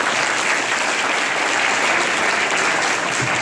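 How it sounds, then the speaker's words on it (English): A large convention panel audience at New York Comic Con claps steadily and densely, a loud, even wash of applause with no break throughout. "give yourself a round of applause"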